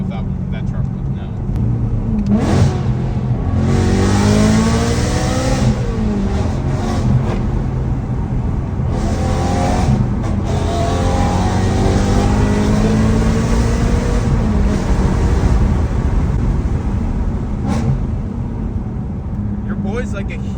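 A BMW M3's engine hums and rises through revs while driving, a steady close drone inside the car with shifting pitch sweeps, under ongoing conversation.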